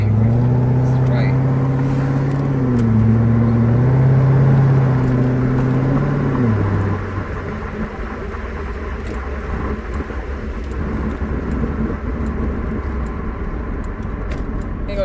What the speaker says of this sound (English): He gonna drive me around the block and bring me to take me back.